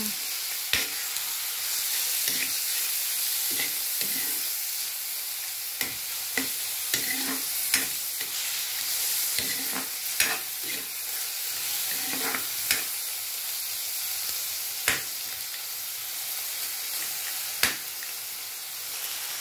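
Cauliflower and pork frying in a pan with oyster sauce being stirred, a continuous hiss of sizzling under repeated sharp spatula scrapes and knocks against the pan, close and steady.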